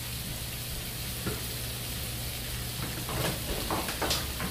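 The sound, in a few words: ground turkey cooking in a pan, being stirred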